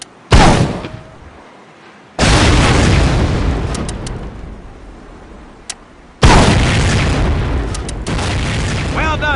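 Heavy explosions from a mortar shell striking a truck in the World War II shooter Medal of Honor Pacific Assault, with loud booming bursts followed by rumbling debris and scattered crackles, about three large blasts in close succession.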